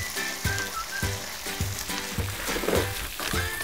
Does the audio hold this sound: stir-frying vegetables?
yes